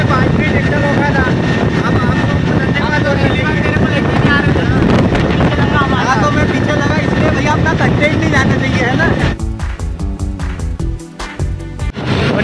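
A tractor engine drones loudly and steadily while riding on a rural road, with wind buffeting the microphone throughout and rougher, choppier engine pulses near the end.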